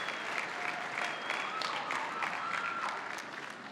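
Sustained applause from graduates at a university commencement, thanking their faculty: a full, even wash of many hands clapping together, easing off a little toward the close.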